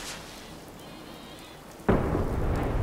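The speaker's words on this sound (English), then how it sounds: "get rid of the rain again real quick." Steady rain hiss in Fallout 4, then a sudden loud burst of thunder that rolls on as a heavy rumble over the rain.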